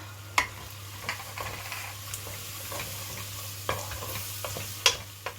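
Onions and spices fry quietly in a pan, with a faint, steady sizzle broken by occasional sharp clicks and taps from stirring, and no talking.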